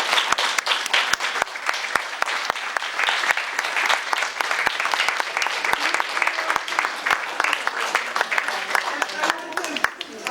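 An audience at an awards evening applauds the standing honorees in a steady, even stretch of crowd clapping that lasts about ten seconds, with sharp individual claps popping out of the wash.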